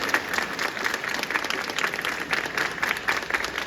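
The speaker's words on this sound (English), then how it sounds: "give a resounding clap and applause to all the children" Teachers at a school Teacher's Day celebration clap and applaud for the children after their performance, a steady, dense wash of many hands sustained throughout at moderate loudness.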